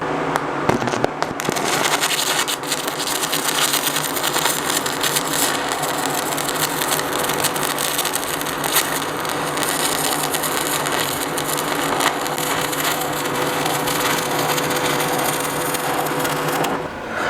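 Stick welding aluminum rod on a Primeweld TIG 325 machine, with thick flux, produces a loud, continuous crackling and sputtering arc that runs steadily for the whole stretch without pause or speech.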